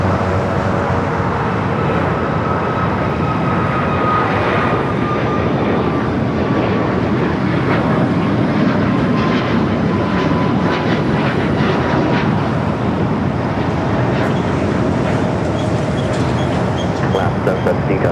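A jet airliner takes off from runway 25 right at LAX, a loud, steady roar of engines that holds across the whole stretch with a faint whining tone on top.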